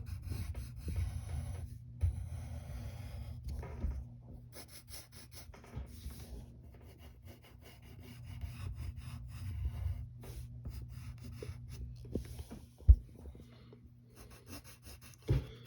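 A pencil draws zigzag lines on paper, making soft close scratching and rubbing strokes at a quiet level with a few small taps.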